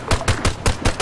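Arma 3 gunfire: six rhythmic, evenly spaced shots in quick succession, loud and close, with no talking over them.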